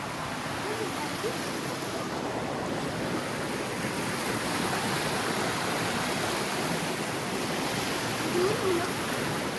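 Water flows steadily past an old mill in a park, a continuous broadband rush that stays loud and even throughout with no pauses.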